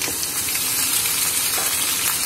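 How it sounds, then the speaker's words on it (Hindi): Steady, crackling sizzle of chicken added to lightly browned onions frying in a hot pan for chicken pulao, with faint stirring scrapes underneath. "अब मैं इसके अंदर ये जो चिकन था हमारा ये ऐड करूँगी"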